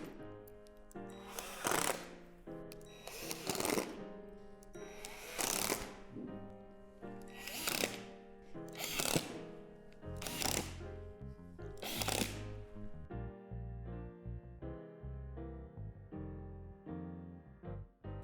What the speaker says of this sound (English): insert the screws to secure the panels together